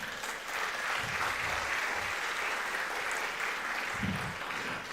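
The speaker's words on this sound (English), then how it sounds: "Let us give him a warm applause" Warm applause from a lecture audience greeting a speaker at a distinguished public lecture, a steady dense wash of many hands clapping that holds evenly for several seconds with no talk over it.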